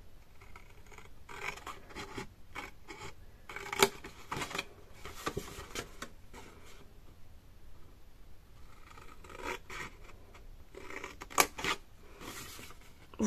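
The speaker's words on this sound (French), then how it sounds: "on découpe comme ça nos 4 parties" Scissors snip through folded cardstock in short bursts of crisp cuts separated by quiet pauses, close and fairly soft, with light paper rustling between.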